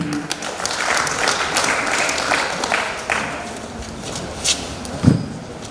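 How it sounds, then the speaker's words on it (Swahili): Audience applause for club members at a club gathering, a steady wash of clapping across the whole stretch with a louder burst near the end. "Wapige makofi."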